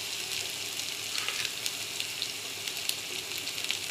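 Garlic fries in a pan until golden brown, a soft, steady sizzle and hiss that continues evenly at low level.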